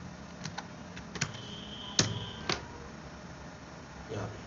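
Several keys are pressed on a computer keyboard while working in Tally accounting software, sharp isolated clicks scattered over a quiet room background, with one louder tap near the middle.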